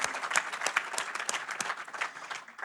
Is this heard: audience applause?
yes